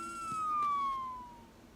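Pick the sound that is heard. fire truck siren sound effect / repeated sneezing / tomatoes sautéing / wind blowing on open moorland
fire truck siren sound effect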